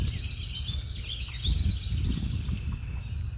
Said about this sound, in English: I hear all the birds.